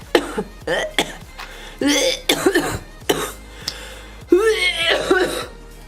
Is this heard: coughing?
yes